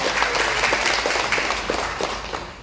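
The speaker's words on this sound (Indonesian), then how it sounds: "Tepuk tangan dulu untuk kita semuanya." A roomful of people applauds at a marketing plan presentation, steady loud clapping throughout with a faint voice underneath.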